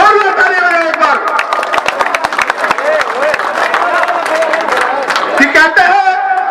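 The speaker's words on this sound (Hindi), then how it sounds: "जोरदार ताली बजाओ एक बार।" A crowd at a political rally of the Rashtriya Loktantrik Party clapping loudly, dense rapid applause that runs throughout with many voices chattering over it.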